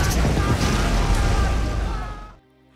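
A film bomb explosion destroying a high-tech machine, a loud, sustained roaring blast that fills the scene for over two seconds before cutting off abruptly into near quiet.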